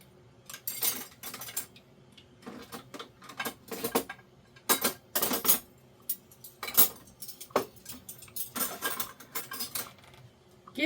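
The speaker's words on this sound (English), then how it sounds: "So I've got silverware, and then I've got some, you know, silver plated, the plastic and the knives." Silverware, silver-plated utensils and plastic knives clinking and clattering in a kitchen, with repeated metallic jangles and taps in irregular bursts, close and moderately loud, with no talking.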